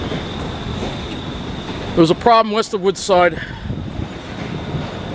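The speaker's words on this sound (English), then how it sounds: "Yeah, the train's rolling." An LIRR commuter train rolls into a station, a steady low rumble with a faint high whine running through it, while someone talks briefly over the sound partway through.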